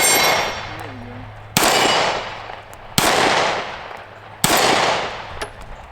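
Four sharp, loud gunshots from an FN Reflex micro 9mm pistol at an outdoor range, spaced roughly 1.5 seconds apart, each a crisp crack followed by a long decaying echo, with no talk between them.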